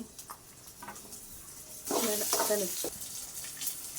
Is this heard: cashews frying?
yes